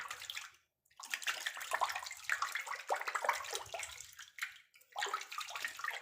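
Water runs steadily from a tap into a basin while makeup brushes are rinsed under a heavy flow, loud and close with a couple of short breaks in the stream.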